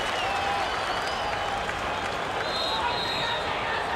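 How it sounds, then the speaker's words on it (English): A full-house cricket crowd in Sydney applauds steadily, a dense wash of clapping and cheering that holds level throughout, with a voice talking over it. "the crowd, this full house, they're giving the Australians wonderful support here in Sydney this year"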